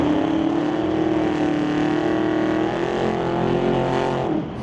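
A 67 Camaro drag car with a 468 Chevrolet engine at the drag strip: a loud, sustained V8 roar holding a steady howling pitch for several seconds, then cutting off sharply near the end.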